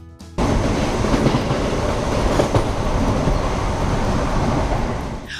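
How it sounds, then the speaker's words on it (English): A subway train rushes past, close and loud, as a dense rumbling roar with rattling wheels. It swells suddenly and holds steady for several seconds before starting to fade, with no voices. "did you guess a subway train zooming by?"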